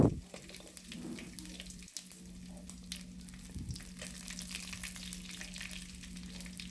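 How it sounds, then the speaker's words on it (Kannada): Mustard seeds, urad dal, curry leaves and crushed garlic crackle and sizzle softly in hot oil in a pan, a steady hiss with a low hum beneath and a brief clatter at the start. "ಒಂಜಿ ಬಾಣಲೆಗ್ ಎಣ್ಣೆ ಪಾರ್ದು ಎಣ್ಣೆ ಬೆಚ್ಚ ಆಯ್ಬೊಕ್ಕ ಐಕ್ ಸಾಸಿವೆ"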